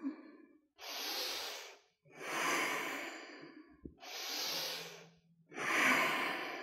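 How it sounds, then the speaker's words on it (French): Four long, deep breaths during a yoga stretching routine, alternating slow airy inhales and exhales with short pauses between, close and fairly soft. "Longue respiration."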